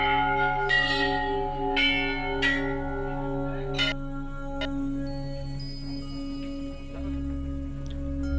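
Temple bells at Golju temple ring out in several clear metallic strikes early on, each leaving a long shimmering hum that lingers and slowly fades, with a few fainter chimes later.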